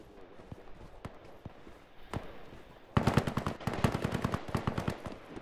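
Gunfire in the Roblox game Fireteam: scattered single distant shots give way to a loud, rapid burst of automatic fire lasting several seconds, with no talking.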